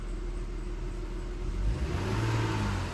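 A 2003 Audi A6 engine running while driving, a close, steady mid-range rumble that deepens and swells as the car accelerates toward the end, with no voices over it.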